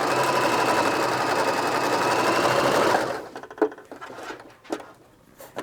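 A sewing machine runs with its thread tension set too loose, giving a fast, steady mechanical patter for about three seconds that stops, followed by a few quieter clicks and handling knocks.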